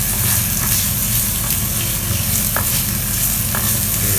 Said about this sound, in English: Adding this half of the onion slices.